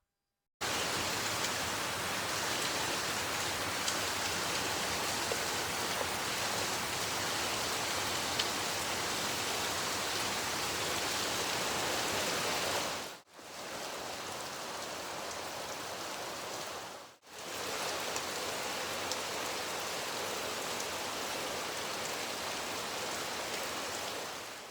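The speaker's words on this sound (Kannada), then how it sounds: "ಜೋರು ಮಳೆ" Heavy rain pours down in a steady, loud hiss that fills the whole stretch, dropping briefly twice before resuming at full strength, with no voices.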